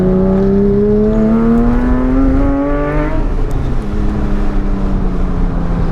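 Porsche 997.2 GT3 or C7 Corvette Grand Sport exhaust fitted with bypass pipes and aftermarket valves, loud and close as the engine climbs steadily through the revs, then drops back into a rougher, lower drone.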